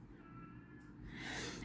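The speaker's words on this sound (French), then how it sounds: "C'est le chat de la voisine." A neighbour's cat gives a single faint meow, rising toward the end, heard from a short distance over a quiet room with low background hum and no talk.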